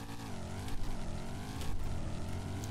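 A Mustang TRT Spec 3 drag car launching in first gear with a manual gearbox, the engine roaring loud and close with a rising, wavering pitch as it pulls hard.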